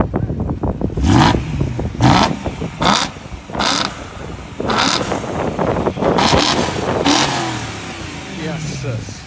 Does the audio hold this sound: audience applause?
no